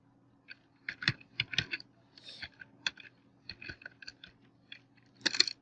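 Irregular bursts of typing on a computer keyboard, with clustered keystrokes and short pauses, fairly close and clear over a faint steady hum, with no talking.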